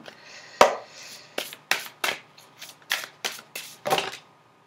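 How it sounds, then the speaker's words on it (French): Cards from an oracle deck are drawn and handled at close range, producing about ten crisp, separate papery snaps and flicks in an uneven rhythm, with a quiet room behind them. "Je vais tirer une dernière carte avec... allez, avec celui-ci, les maîtres ascensionnés"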